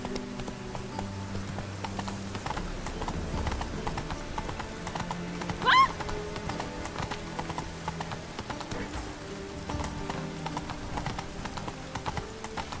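Horse hooves gallop in The Witcher 3 video game, a steady, continuous clip-clop with a short whinny partway through, set against a constant game background.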